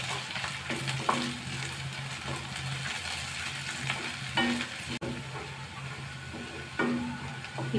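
Onions with ginger garlic paste sizzling and frying in a pan for brinjal masala, a steady close crackle with occasional stirring scrapes throughout, no voices.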